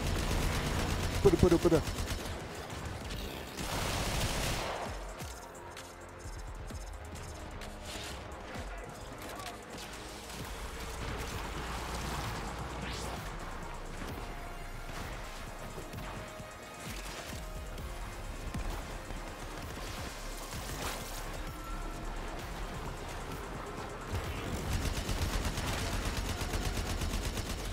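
Gunfire in the Warframe game on Orb Vallis, a dense and steady rattle of shots and blasts that runs throughout, with a person talking now and then over the fighting.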